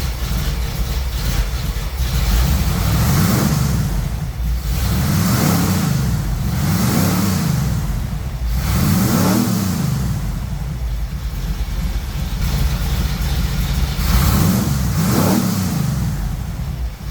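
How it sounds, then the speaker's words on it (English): A Small Block Chevy V8 runs loud and close in a garage just after a jump start, its deep rumble swelling in repeated revs every couple of seconds, with no voices. "Jump starting big old V8 engines with our AstroAI jump starter"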